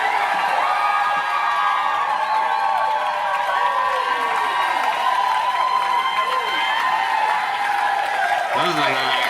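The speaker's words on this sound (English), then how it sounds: "This is a crowd" Live concert crowd cheering and whooping for a musician playing a song, a loud continuous roar of many voices with shouts rising over it, steady throughout.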